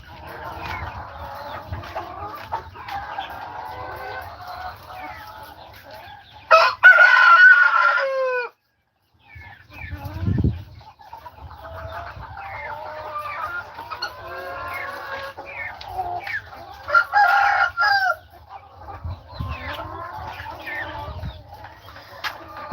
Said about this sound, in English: Roosters make noise almost 24 hours a day in our neighborhood